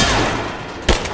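Gunfire in the video game Rise of the Tomb Raider: a dense crackling burst over a busy background, then one sharp loud shot near the end, with no speech.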